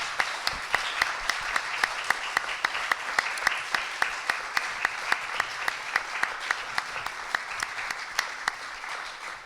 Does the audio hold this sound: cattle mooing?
no